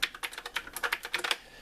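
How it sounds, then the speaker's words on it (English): Typing on an Azio MK Retro typewriter-style mechanical keyboard with round keys produces rapid, irregular clicky keystrokes, close and crisp, with no talking. "you have to get a little used to typing on this with the round keys, but it can be done"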